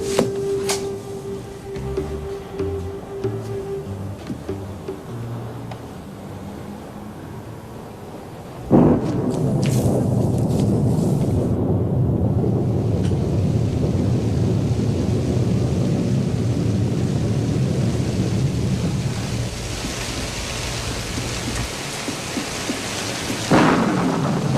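Heavy rain pours steadily on a roof through a thunderstorm, with a loud crack of thunder rolling in near the middle and sustained roaring downpour afterward, plus a fainter rumble at the end.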